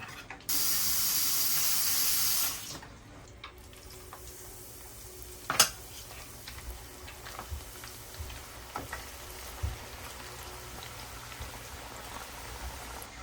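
Potato fries bubble and sizzle in hot oil as a steady, close hiss with scattered pops and clicks running throughout.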